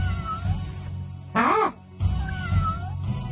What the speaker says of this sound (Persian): برو کنار گربه مزاحم